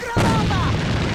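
A grenade blast in the shooter Alliance of Valiant Arms hits suddenly and loudly, a single boom whose rumble trails off over a second, with a voice calling out above it.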